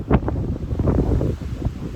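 Wind on the Appalachian Trail near a valley floor, loud gusty buffeting across the microphone with rustling, close and continuous, with no voices.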